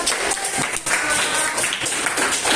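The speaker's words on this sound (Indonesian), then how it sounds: "Tepuk tangan buat." Classroom of ninth-grade students giving a round of applause during an Indonesian language lesson, a dense, steady wash of many hands clapping at once for the full few seconds, with faint voices mixed in.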